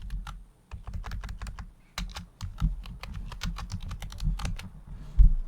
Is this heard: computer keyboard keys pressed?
yes